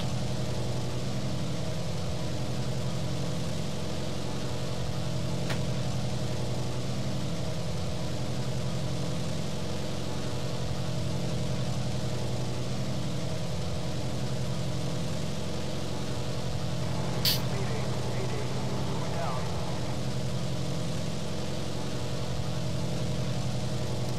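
A bomber's engines drone in the War Thunder video game, one of them knocked out: a steady, unbroken low hum with a faint rumble underneath, continuous throughout with no talking.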